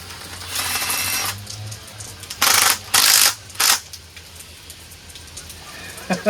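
A pneumatic impact wrench drives a 1/2-inch socket, firing in short loud rattling bursts: one longer run and then three quick close bursts, with a low compressor hum underneath.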